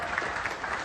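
Applause fills the hall at a golden jubilee event of an employees' welfare association, a brief burst of steady crowd clapping at moderate distance.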